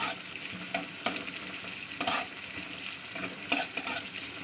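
Onions fry in a pan until reddish-brown, with a continuous close sizzle. Scraping stirs recur about once a second, a few of them louder. Nobody speaks.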